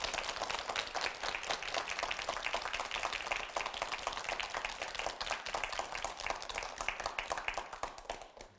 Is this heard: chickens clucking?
no